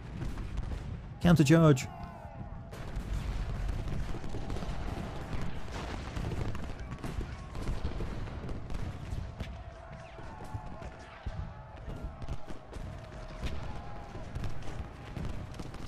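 Cannon and musket fire from Ultimate General: Gettysburg is set in a Confederate campaign battle, with a sharp close blast early on, then sustained rumbling volleys and crackling gunfire, and someone speaking briefly over it.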